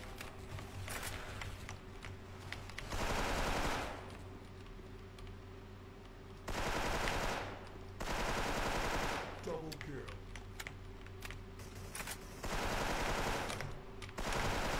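An Engraving M4A1 rifle fires in the online shooter Special Force, loud sustained automatic bursts of several seconds with short pauses between them, and a few faint clicks in the gaps.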